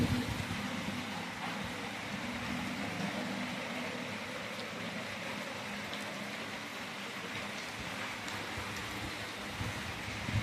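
Heavy rain pours steadily and evenly for the whole stretch, a broad dense hiss of drops on surfaces with no voices.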